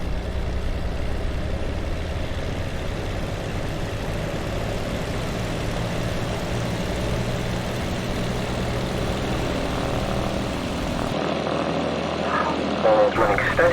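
A P-40C Tomahawk II propeller engine runs up steadily at close range, a loud continuous drone with a shift in tone near the end.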